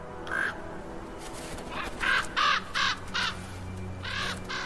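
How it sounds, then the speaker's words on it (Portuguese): Crows caw while feeding on an animal carcass in a harsh northern winter, giving several loud harsh calls in uneven bursts, some close together, over a low steady background. "Um banquete para os corvos."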